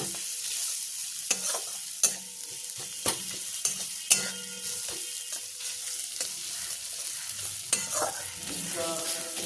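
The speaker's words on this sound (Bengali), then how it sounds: "কাঁচা লঙ্কা দিয়েও আরও ভালো করে ফ্রাই করব।" Ginger, garlic and green chillies frying in a pan for Bengali-style begun bharta: a steady close sizzle broken by repeated sharp spatula scrapes and taps against the pan, with no speech.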